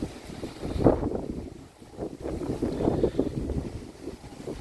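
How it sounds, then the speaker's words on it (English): Strong wind gusts buffet the microphone on a blustery seaside day in Kihei, Hawaii, a steady low roar with swelling gusts and faint surf beneath, no voices. "So a windy day in Kihei."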